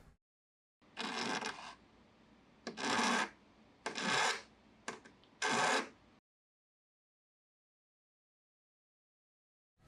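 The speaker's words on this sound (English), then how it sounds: "cut the other end, and then just file the end down" File rasping down the cut end of a metal nail, four loud close scraping strokes in a slow rhythm before the sound stops into silence.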